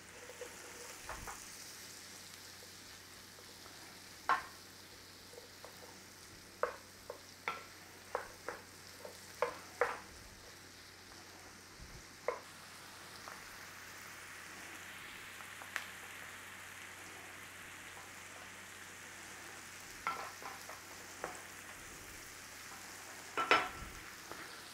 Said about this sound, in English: I like to cook that pepper in with the onions as we're cooking down.